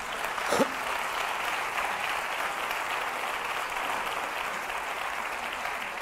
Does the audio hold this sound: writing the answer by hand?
no